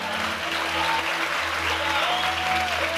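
Steady audience applause fills a church during a pastor's sermon on starting over, dense and continuous throughout, with a low sustained musical hum beneath it.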